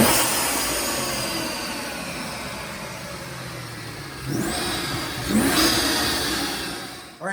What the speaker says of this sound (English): I'm going to make a dyno pull, let you check it out